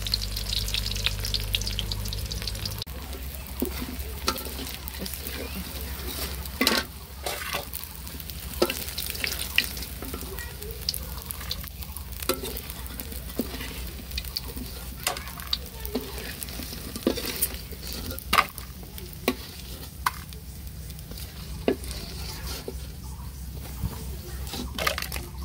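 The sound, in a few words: food frying on a gas stove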